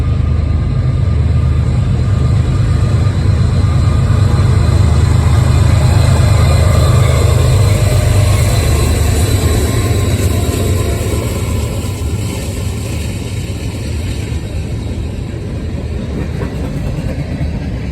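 A CSX freight train rolls northbound through Glendale, Ohio, a loud, continuous rumble and rail roar close by that holds steady for the whole stretch with a slight easing toward the end.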